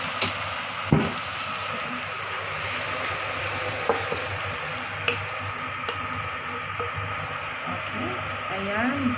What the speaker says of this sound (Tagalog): Yung ating mushroom, still frying siya.